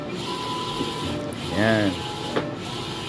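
Epson i3200 eco-solvent printer running with a steady mechanical hiss and a brief rising whir as the print head moves, while someone talks over it.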